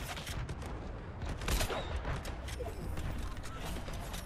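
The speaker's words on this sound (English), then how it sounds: "Let me see if I can kind of shoot you from up here." Fortnite Chapter 5 Season 3 gunfire in a rapid, rattling burst of shots with mechanical clatter, fairly loud and close, continuing for several seconds with faint voice beneath.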